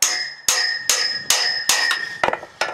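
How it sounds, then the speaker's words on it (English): Hammer blows drive a steel chisel through a steel top plate and around a spot weld on a fruit cage bracket, six sharp ringing metallic strikes at a steady rhythm, loud and close with no talk. "the chisel will actually chisel through this top plate and around the weld"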